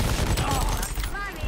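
Gunfire in a first-person shooter game, with dense overlapping shots sounding through a continuous loud mix of game noise and voices.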